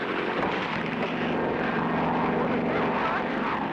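A seaplane's propeller engine drones steadily in flight, a dense, continuous roar with no breaks, loud and close throughout.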